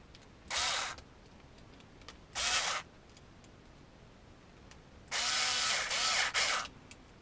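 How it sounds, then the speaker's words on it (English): A power drill drives screws into a WPL C44KM Landcruiser RC car kit, three short whirring bursts, the last one longer, each separated by quiet pauses. "Here it's nice to use the help of a power drill."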